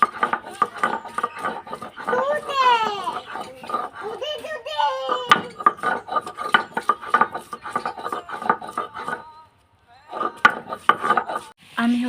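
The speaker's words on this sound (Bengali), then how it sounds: "এখন হচ্ছে আমি আদা রসুনটা বেটে নেব" Ginger and garlic being ground into a paste, a steady rhythmic scraping and rubbing that keeps repeating at close range, with a voice and other chatter over it.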